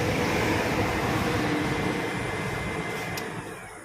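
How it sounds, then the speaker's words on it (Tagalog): A rear blower motor in a Nissan NV350 van, freshly replaced along with the evaporator, runs with a steady, loud whooshing hum of moving air that tapers slightly toward the end, with no talking. "Motor, blower motor."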